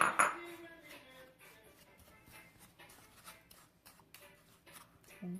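Cinnamon and nutmeg are mixed into cinnamon roll ingredients in a bowl, with soft scraping and rubbing from a utensil against the bowl and occasional light clinks, quiet and close, without talking.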